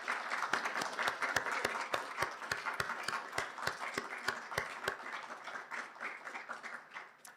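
Applause from the audience at a physical therapy hooding and pinning ceremony, a moderately distant crowd clapping steadily with one or two sharp, evenly paced claps standing out above it.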